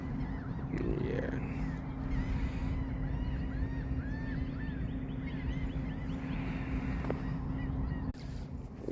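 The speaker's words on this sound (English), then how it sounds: "You guys can hear the seabirds and the pelicans and so being all noisy this morning." Pelicans and seabirds call noisily on a Sarasota, Florida morning, with a scatter of honking, squawking cries at middling distance over a constant low background hum.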